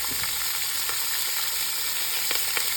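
Meat browns in olive oil in a pan for a pork shoulder roast, a steady dense sizzle and crackle throughout with a few sharper pops, close and fairly loud, no talking.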